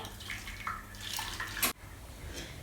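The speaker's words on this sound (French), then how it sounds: "Je vais mettre l'eau dans le plat." Hot water is poured steadily into a baking dish around a foie gras terrine for a bain-marie at 140 degrees, a continuous close splashing flow that ends abruptly, with no talking.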